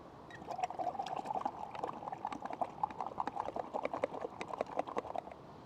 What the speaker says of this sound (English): You can swill it around quite vigorously in the water, and the water cleans it pretty thoroughly.